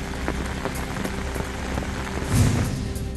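Heavy monsoon rain lashes down in Raigad district, a dense close hiss of drops on surfaces with a brief louder gust of splashing partway through.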